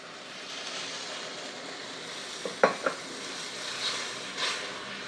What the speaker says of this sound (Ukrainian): Гарненько перемішуємо.